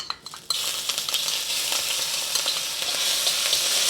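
Ginger sizzles and crackles in a pan of hot oil for Japanese fried rice, a steady close frying hiss that starts abruptly and keeps going with small pops and spatters, no talk over it.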